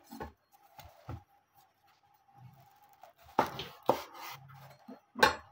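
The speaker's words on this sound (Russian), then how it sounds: "Сейчас попробую разрезать гриб пополам и показать," A few sharp cutting and scraping sounds close by as a knife cuts a birch polypore mushroom in half, with soft clicks and faint handling noises in between, mostly quiet with brief louder bursts.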